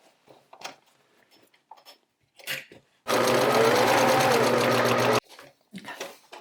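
Sewing machine stitching over a trouser waist seam, one steady motor-driven run of rapid stitches lasting about two seconds, close and loud, between quiet handling noises.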